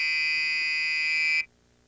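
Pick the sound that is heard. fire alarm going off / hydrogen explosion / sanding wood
fire alarm going off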